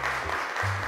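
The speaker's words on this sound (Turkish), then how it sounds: "ilk arkadaşımı alkışlarla çağırıyorum" Brief burst of studio audience applause on a children's TV show as a child is called onstage, a dense clapping wash lasting under a second.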